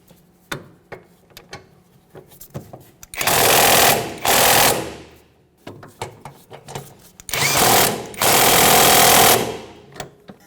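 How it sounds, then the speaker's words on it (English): A power tool, likely a drill or impact driver, snugs the lower control arm mounting bolts on a 1994-1997 Honda Accord in two loud, sustained whirring bursts, separated by scattered clicks and clanks of handling. "we can continue on by snugging up each of these mounting bolts"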